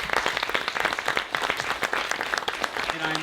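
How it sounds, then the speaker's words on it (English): An audience at a community hiking talk gives the speakers a round of applause: dense, steady clapping from a mid-sized crowd, loud and close, with a faint voice near the end. "Let's give them a round of applause one more time"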